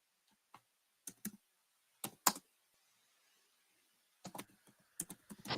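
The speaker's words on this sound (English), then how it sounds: "I'm typing these in as we go, guys" Computer keyboard typing comes in short bursts of sharp, close clicks separated by quiet pauses, with a quicker cluster of keystrokes near the end.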